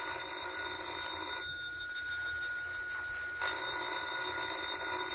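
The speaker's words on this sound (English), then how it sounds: "Well, ain't you going to answer the phone?" An old telephone bell rings in a radio drama scene, two long trilling rings separated by a short pause, clear and fairly close with no one talking over it.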